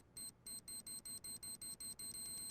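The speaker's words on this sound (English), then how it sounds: "No, it's like a beeping." Electronic alarm beeping in a room, a steady run of short high beeps that quicken until they nearly merge into one continuous tone, faint and alone with no talk.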